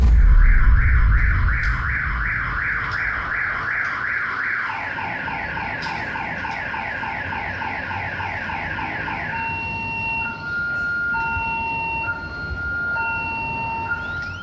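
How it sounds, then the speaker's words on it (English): A house alarm blares, set off by a moving wheelchair. Two rapid warbling electronic tones cycle for several seconds, then give way to slower alternating beeps, loud and close with a faint background hum. "footage of a wheelchair that activated a house alarm"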